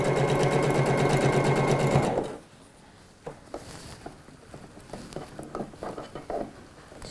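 A sewing machine runs fast, stitching a trouser hem for an Alfie pattern, a dense steady mechanical whir for about two seconds, then stops and gives way to quiet handling noises and soft fabric rustles.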